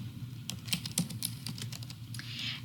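Keys are tapped on a computer keyboard in short irregular bursts, close and distinct against a quiet room hum, with no talking.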